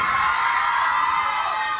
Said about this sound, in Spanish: Gritos y chillidos, aplausos para la número uno.